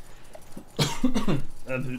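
A short, harsh cough bursts out after a quiet moment, followed by a raspy throat-clearing sound, close by.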